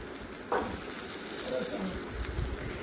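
Sardines frying in a hot pan for a pickle, the fish just turned over; a steady close sizzle with a brief clatter near the start and faint scraping.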